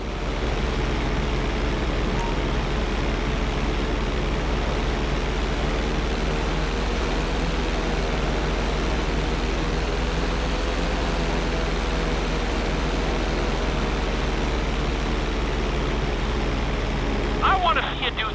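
Airplane engine drones steadily in flight during a flight-school stunt mission in the video game GTA V, a loud continuous roar holding throughout with slight pitch shifts, no voices heard.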